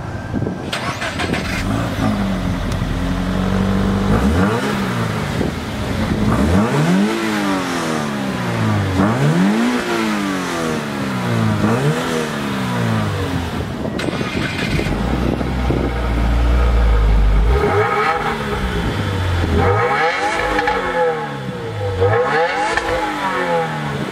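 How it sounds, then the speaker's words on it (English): 2019 Subaru WRX and BRZ engines start and rev repeatedly, rising and falling in loud surging sweeps, one after another, with idling between the revs. "let's go ahead and fire them up and hear what these engines sound like"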